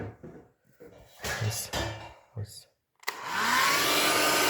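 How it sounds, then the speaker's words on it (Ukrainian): A hair dryer switches on with a click and blows with a steady, loud whoosh, following a few moments of talking. "Беремо звичайний фен і прогріваємо."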